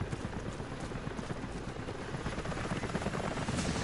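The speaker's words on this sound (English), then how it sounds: "helicopters are headed your way." Helicopters approach in the video game Tomb Raider, a dense, continuous rotor roar and whir that grows slightly louder over a few seconds.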